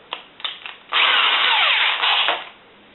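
A power drill drives screws into oak during a mirror restoration: a few short taps and bursts, then a loud sustained whirring drive of about a second and a half with a rising pitch sweep before it cuts off.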